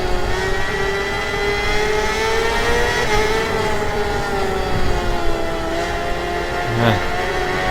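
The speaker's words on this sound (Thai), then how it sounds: "เมื่อกี้นี้เร่งเครื่องครับท้ายปัด" Motorcycle engine in the RIDE 4 racing game revving and accelerating out of a corner, a steady high-pitched drone holding throughout with slight pitch swells, loud and continuous.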